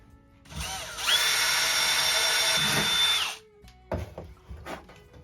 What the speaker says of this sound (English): we're going to get our drill bits out, see what size bit we need